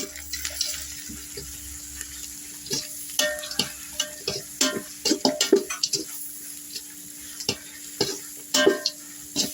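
Ginger and garlic frying in a pan, a steady low sizzle with repeated scraping and clinking of a spoon stirring, close and busy.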